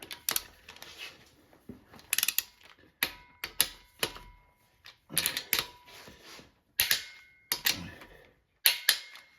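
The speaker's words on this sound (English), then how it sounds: "Let's put some torque on these bolts and see what the clearance is here." A wrench tightens the engine bolts on a small block Chevy 400, making bursts of sharp ratcheting clicks in an irregular rhythm with short pauses between them, close and fairly loud.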